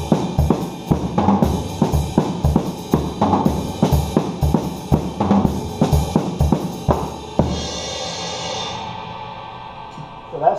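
Polyrhythmic drum kit groove in 5/4 for a worship song chorus, with an added 32nd note: dense, rapid repeated hits with cymbal wash for about seven seconds, then a ringing cymbal decays alone.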